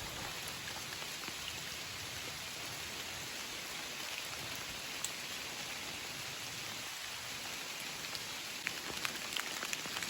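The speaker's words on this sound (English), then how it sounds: "You can hear very well the sound of the rain." Steady rain falling outdoors on a rainy morning, an even, continuous hiss of drops with occasional sharper drips, moderately quiet and unbroken throughout, with no voices.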